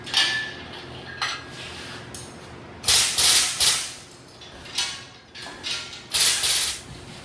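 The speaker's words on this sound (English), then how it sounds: "I'm going to pull the dipstick tube right out." Dipstick tube being worked out of a 1991 Chevy S10 engine during a teardown, heard as a series of short, close metallic scrapes, creaks and clinks in uneven bursts.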